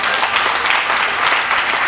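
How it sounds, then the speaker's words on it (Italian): Audience applause at a cultural event in Milan welcoming a guest expert on traditional Romanian costume, dense and steady throughout at close, loud level with no talk over it. "chiedo a tutti voi un bellissimo applauso"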